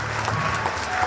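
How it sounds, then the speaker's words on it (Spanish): Church congregation applauding in praise during a sermon, steady dense clapping filling the whole moment at close range with faint crowd murmur. "Fuertes aplausos a nuestro Dios."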